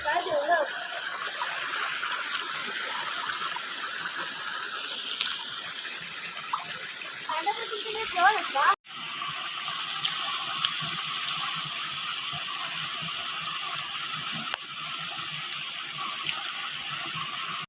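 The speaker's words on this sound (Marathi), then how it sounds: "इथून पाणी येतो शेडमातलं हा पाईप आहे त्या पाईपचं पाणी आम्हाला नॅचरल पाणी येतं मित्रांनो नदीचं" Natural river water pouring from a pipe outdoors, a steady loud gushing flow that continues throughout, with people talking over it in the first half.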